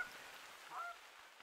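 Faint, distant geese honking in the hunting game theHunter: Call of the Wild, with a brief cluster of calls rising over quiet outdoor ambience.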